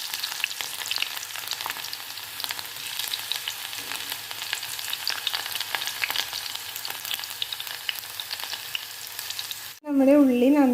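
Shallots sizzle and crackle as they fry with fenugreek seeds in hot oil, a steady close hiss for nearly ten seconds before a short, wavering tonal sound cuts in at the end.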